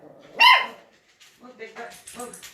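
A dog gives one sharp, loud bark up close, followed by softer whimpering yips, with people talking around it indoors.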